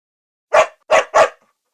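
A dog in Morocco barks three times, one bark and then a quick pair, loud and close against silence.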